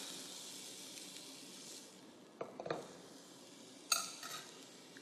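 Beef and mushrooms stir-fry in a pan for Korean rice porridge over medium-low heat, a faint soft sizzle broken by a few clinks and scrapes of utensil against pan.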